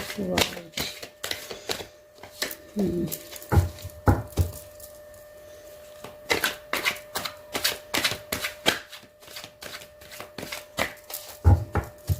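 Tarot cards are shuffled in quick, crisp riffling bursts of close rhythmic clicks and slaps, pausing briefly midway, with a voice heard early on.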